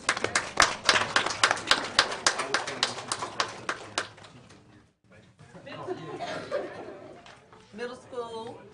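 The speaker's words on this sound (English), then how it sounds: "Round of applause." A small audience at a board of education meeting claps for about four seconds in distinct, close-by claps. Murmured chatter and light laughter follow once the clapping stops.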